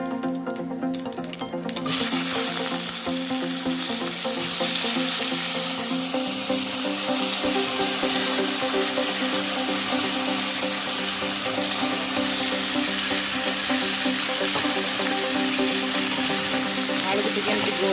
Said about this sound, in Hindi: आलू को देगी दवा